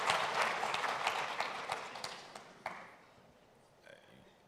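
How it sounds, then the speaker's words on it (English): Conference audience applauding at a competition law and economics event, a full burst of clapping that thins out and fades away toward the end. "I see they want to clap."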